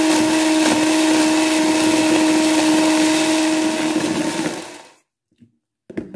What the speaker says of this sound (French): je viens monter mes blancs en neige avec mon fouet électrique